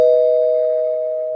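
A single bell ding rings out clear and loud at the start, then holds as a steady tone that fades slowly over about a second and a half, with no voices.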